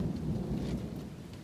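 Thunderstorm outside an abandoned old railway station house, with a deep rumble of thunder rolling under steady rain, loud and continuous without any talk.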